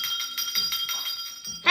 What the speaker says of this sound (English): I be ringing this bell.